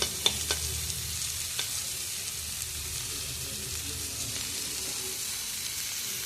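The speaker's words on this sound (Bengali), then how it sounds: "এখন আদাটা একটু ভাজা ভাজা হচ্ছে" Ginger frying in a pan for a vegetarian chow mein, a steady hiss of sizzling oil with a few faint scrapes and taps of stirring near the start.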